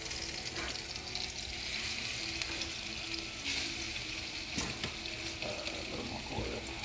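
Salmon and shrimp fry in a pan with oil, a steady low hiss and crackle that sounds almost like running water, with a few stirring knocks and scrapes scattered through.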